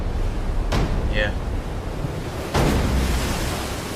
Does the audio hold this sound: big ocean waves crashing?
yes